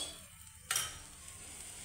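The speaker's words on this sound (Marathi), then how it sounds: "आता पुन्हा एकदा परतून घ्यायचं आणि त्याच्यामध्ये 1 चमचा तूप घालायचं" Food sautéed in ghee in a pan, quiet at first, then a sudden sizzle as the ghee hits and steady frying with faint stirring scrapes, nearby with no voices.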